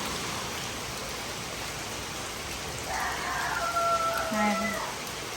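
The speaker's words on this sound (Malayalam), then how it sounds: "മഴ വന്നു, ഇനി ഞാൻ നനഞ്ഞു വേണം ഇവിടുന്ന് പോകാനായിട്ട്" Rain falling steadily outdoors in Kerala beside a newly dug pond, a constant broadband hiss with brief faint tones partway through.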